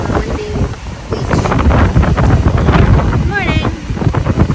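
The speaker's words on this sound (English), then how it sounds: "Morning from the windy beach." Strong wind buffets the microphone on a beach at Tulum at sunrise, a loud gusting rumble with surf-like wash underneath and a voice speaking briefly over it.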